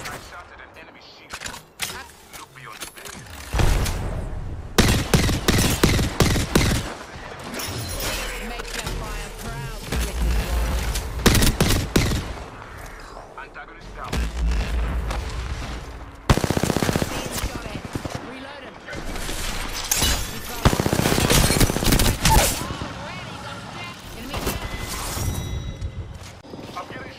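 Loud automatic gunfire from an Apex Legends match, repeated bursts and sustained sprays at close range separated by quieter stretches, with players talking over the fighting.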